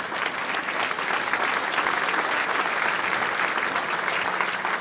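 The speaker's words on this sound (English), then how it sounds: "just a clap for the two players coming down the last end" Spectators at the 2017 World Indoor Bowls Championship give a steady, sustained round of applause for the players, a dense wash of many hands clapping indoors that holds for the whole stretch.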